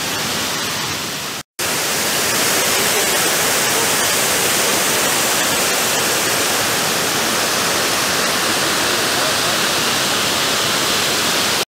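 Loud, constant roar of the Klokovsky Waterfall on Sakhalin, Russia, a dense rushing wash of water with a brief cut near the start.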